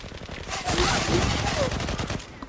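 Rapid automatic gunfire bursts from the online shooter game Zula, loud and close, with a player's voice talking over the shooting.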